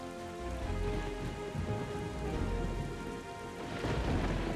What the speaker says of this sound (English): Man, the storm is so cool.